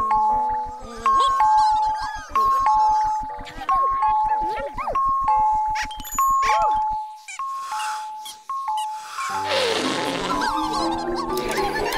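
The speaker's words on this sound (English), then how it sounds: "It's the ding dong alarm." The ding dong alarm from the children's show In the Night Garden: repeated bright chiming tones over a pulsing rhythmic backing, then a burst of jingling, tinkling noise toward the end, with voices speaking alongside.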